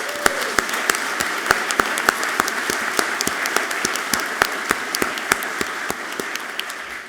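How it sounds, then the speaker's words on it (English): A crowd at a distinguished alumni awards ceremony gives steady, sustained applause, with a continuous wash of clapping and sharper individual claps standing out throughout. "Let's give them all a round of applause."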